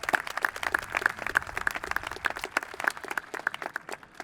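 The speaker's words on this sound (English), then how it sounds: "If we could give them a round of applause, I'd appreciate it." A sparse audience claps at a 2021 high school commencement ceremony, with distinct individual hand claps in an irregular rhythm, faint and somewhat distant.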